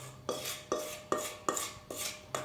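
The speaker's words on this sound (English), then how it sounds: "you add the mixture to the milk and stir immediately so it doesn't stick at the bottom" Spoon scraping and knocking against a pot while milk tart mixture is stirred into milk, a quiet, regular series of about six strokes, each a soft clink followed by a brief swish.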